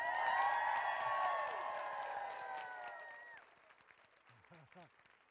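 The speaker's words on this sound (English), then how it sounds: "Big round of applause for everybody." Audience clapping at the ECEBC Conference 2017, a steady crowd applause mixed with overlapping voices and bright tones in the first seconds, then thinning out with scattered talk toward the end.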